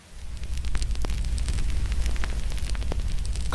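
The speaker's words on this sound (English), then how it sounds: "At the center, a small fire burns," A small fire burns steadily, with a low continuous roar and scattered crackles and pops rising over it, fairly close and loud and without any voices.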